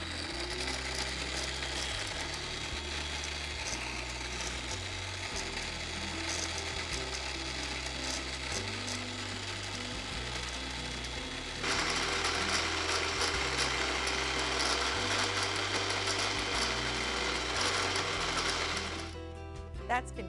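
A countertop blender whisks egg yolks for béarnaise sauce, giving a continuous motor whir with a steady mechanical drone. The whir grows louder and harsher partway through, then cuts off at the end.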